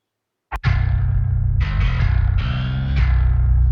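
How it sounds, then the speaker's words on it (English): Heavy, distorted 808 bass notes thump out in a repeating pattern, thick and gritty with a buzzing overdriven edge, loud and up front with no voices. "put a lot of extra distortion on it to just have those low notes distorted"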